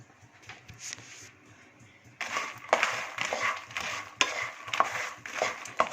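Spiced makhana (fox nuts) being stirred and tossed in a pan, quiet at first, then repeated rustling, scraping bursts as the dry puffed seeds are mixed.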